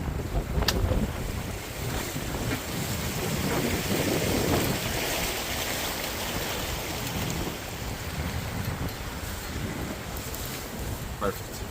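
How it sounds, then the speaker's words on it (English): A sailboat under sail in an 18 to 22 knot wind off the New England coast: steady loud wind buffeting the microphone over rushing water and wave wash, continuous throughout, with a brief voice in the background. "22 knots wind. So nice weather condition today. Sailing."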